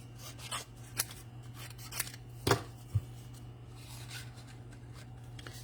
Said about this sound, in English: we're going to cut this with my scissors so I can get it in there to fit.